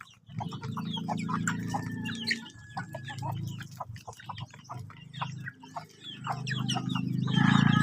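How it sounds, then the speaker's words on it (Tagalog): Chickens cluck and murmur continuously, several birds close by, with sharp clicks and scattered pecking sounds throughout. "Himsog kaya guys ang mga manok."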